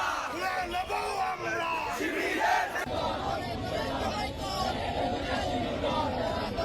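A protest rally crowd chants slogans in unison, loud massed voices rising and falling in rhythmic bursts, with a shouted lead and a busy crowd roar underneath.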